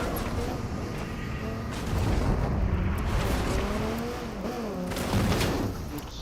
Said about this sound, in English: Someone's trying to freaking airstrike us.